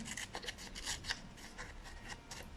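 Scissors snip along paper edges for a modular origami flower, giving soft, close rasping cuts in quick repeated strokes, quiet and without talk.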